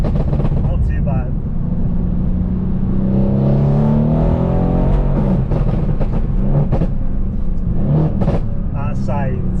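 Tuned Mercedes C63 AMG V8 with catless downpipes accelerating, a loud rising engine roar climbing through revs in the middle, with someone talking over it.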